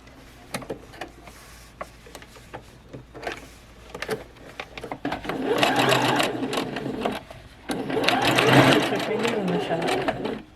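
A sewing machine runs in bursts while stitching a hand-knitted sweater, quick mechanical chatter starting and stopping close by, with a person talking between and over the runs.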